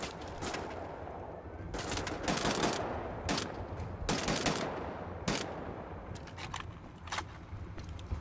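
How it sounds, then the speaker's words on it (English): Repeated gunfire in Wolfenstein: The New Order as wooden boards are shot out, coming in loud, dense bursts with short gaps and sharp cracks over a steady noisy background, with no talking. "you can actually shoot these boards out"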